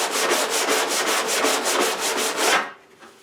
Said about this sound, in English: You could easily dig into a narrow surface like that with that sander.